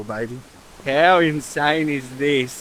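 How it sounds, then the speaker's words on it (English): Loud waterfall at a river campground along the Old Telegraph Track, a steady rushing roar beneath excited close-up talking that fills the gaps between phrases. "you can probably hear it in the background because it's very loud, but we are standing right on the waterfall"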